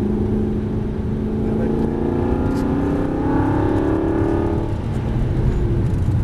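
Aston Martin V8 Vantage accelerating on a race track, the engine note climbing in a steady, loud rising pull before easing off toward the end, captured from inside the car with no talk.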